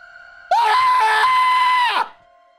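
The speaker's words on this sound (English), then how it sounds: "A scream clawed its way out of my body, taking my mind with it" A character in the video game Zero Escape: Virtue's Last Reward lets out a long, loud, sustained scream lasting about a second and a half, standing alone over a quiet background hum.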